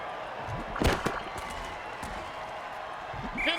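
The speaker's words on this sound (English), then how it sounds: "And the crowd goes wild." A stadium crowd in a football video game roars and cheers in a dense, steady wash, with a couple of sharper hits and swells rising over the constant noise.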